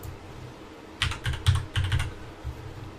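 Keys clatter on a computer keyboard as a short number is typed, a quick burst of several close, crisp clicks after a quiet room background, with one last tap trailing.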